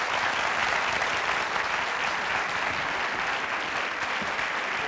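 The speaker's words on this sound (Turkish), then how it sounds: "Alkışlar mıyız Göktan'ı?" Studio audience of a Turkish TV talk show applauding steadily, a dense, even wash of clapping that holds at full strength throughout with no voices on top.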